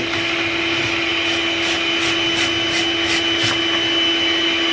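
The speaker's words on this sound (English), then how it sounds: "See that fine dust coming out there?" A vacuum cleaner runs loud and steady with a constant whine while cleaning fine dust from a clothes dryer vent, with a few faint rhythmic whooshing pulses partway through.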